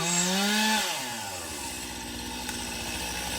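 A chainsaw cutting a tree revs loudly, then its pitch drops and settles into a steady, close cutting drone.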